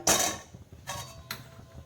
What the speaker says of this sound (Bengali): কড়াইটা বসিয়ে দিলাম